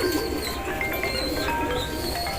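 Newly acquired pigeons coo softly at a loft, low murmuring coos under steady ambient noise with faint chirps, no voices.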